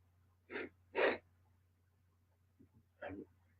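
A couple of sharp sneezes in quick succession, then a quieter pause and another sneeze-like burst, close and otherwise quiet.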